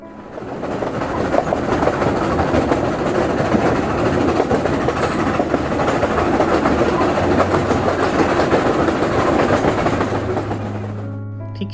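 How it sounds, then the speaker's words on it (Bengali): A vintage steam train runs along the track, a loud, close, continuous rumble with rhythmic clickety-clack of the wheels that holds steady before quickly fading to quiet at the end. "ট্রেনটা আবার ধীরে ধীরে চলতে শুরু করেছে বটম পয়েন্টস থেকে"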